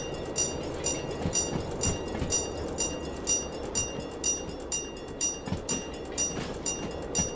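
In the Derail Valley video game, train carriages roll past a level crossing with a steady, moderately faint rail rumble and a regular clickety-clack of wheels over joints, and no voices.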